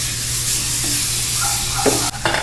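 Star margarine melting in a little hot cooking oil in a pan, giving a steady close sizzle and crackle with a low hum beneath and a brief stir near the end.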